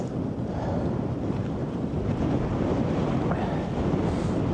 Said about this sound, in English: Right now we're pushing a headwind though.